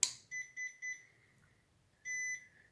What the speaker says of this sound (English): you're going to hear three beeps and then one long beep, and that means you're ready to go